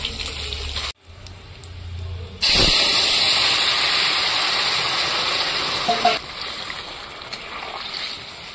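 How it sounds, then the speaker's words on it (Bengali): Bay leaf, radhuni and cumin hit hot oil for tempering, bursting into a loud, close hiss after a brief pause and sizzling steadily before easing slightly, with no talking. "ফোড়নে দিয়ে দেবো তেজপাতা আর সামান্য পরিমাণে রাঁধুনি আর গোটা জিরে। ফোড়নটা ভালো করে ভেজে নেব।"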